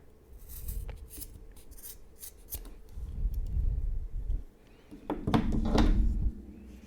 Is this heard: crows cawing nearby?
no